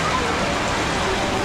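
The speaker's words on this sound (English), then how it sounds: "it's absolutely pissing it down still" Heavy, steady rain pours down outdoors on Koh Samui in Thailand, a dense continuous hiss that fills the whole moment at an even, close volume with no pauses.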